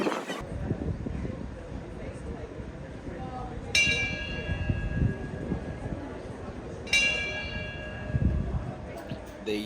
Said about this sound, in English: They used a bell ringing from behind the dog as their distraction.